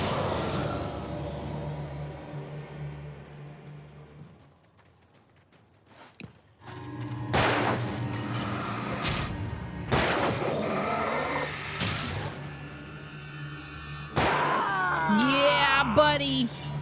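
Gunfire in Alan Wake Remastered comes as several loud, sharp shots spaced a few seconds apart, each ringing out over low game ambience, with a voice talking in between.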